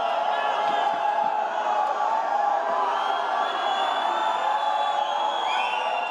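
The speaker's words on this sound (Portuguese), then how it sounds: "As vaias e os gritos de "Fora Dilma" partiram de pessoas que trabalhavam no evento." A large crowd of workers at a trade fair booing and chanting against the president, a steady dense roar of many voices throughout, fairly distant and without pause.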